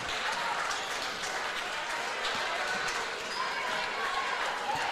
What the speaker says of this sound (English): the fans will give the seniors a nice round of applause as Allard, Brewer, and Blado check out